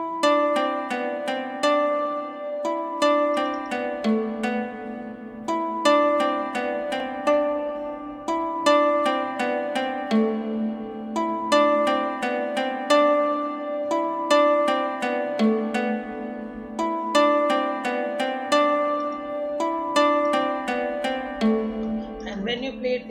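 A plucked guitar counter melody for an FL Studio beat plays alone, clean and moderately quiet, in repeating bright picked phrases with a steady pulse.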